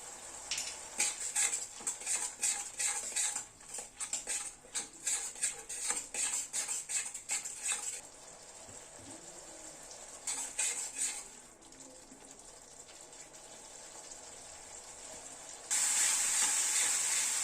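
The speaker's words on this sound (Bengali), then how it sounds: "মশলাটাকে গ্যাসের ফ্লেমটাকে মিডিয়ামে রেখে 3-4 মিনিট সময় ধরে কষিয়ে নিলাম।" Spice masala stir-fried in a pan over a medium gas flame, rapid rhythmic metal spatula scraping against the pan over a soft sizzle, then a calmer stretch of frying and a sudden louder hiss near the end.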